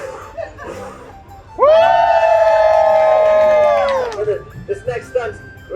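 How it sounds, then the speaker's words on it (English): An audience at a Renaissance festival reacts to a torch stunt with one loud, sustained whooping cheer lasting a few seconds. It rises over a low crowd murmur, then breaks into scattered voices. "When I put this torch out, I expect a burst of uproarious applause"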